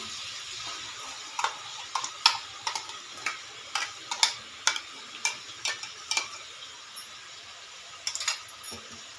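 A pan of ground masala being stirred with chicken in turmeric oil, with a string of light clinking spoon taps and a soft sizzle underneath, quiet and close with no talk.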